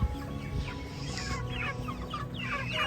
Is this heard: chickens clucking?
yes